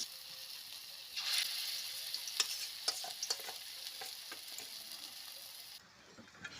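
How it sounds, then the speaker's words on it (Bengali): Pumpkin flower fritters frying in a pan at lunchtime, a soft sizzle with a few light scraping and stirring clicks, fairly faint and close, with no talking. "এখন কুমড়ো ফুলের বড়া হচ্ছে"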